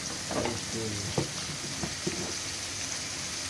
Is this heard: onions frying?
yes